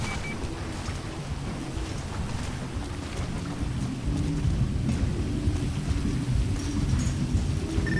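Rain falling steadily with rumbling thunder, a continuous hiss and low roll that grows somewhat louder partway through, with no speech.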